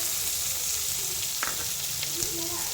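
Chopped onions with turmeric frying in a pan, a steady broadband sizzle filling the whole stretch with a few soft stirring clicks, close and even, no talking.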